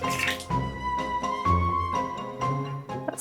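Fabric dipped into a bucket of watered-down paint, giving wet dripping and sloshing splashes in several bursts, close and fairly loud, with no talking.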